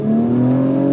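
A 2023 Acura TLX Type S sport sedan engine pulls on throttle through its 10-speed automatic, giving a steady, loud, close drone with a rising tone for about a second, heard alone.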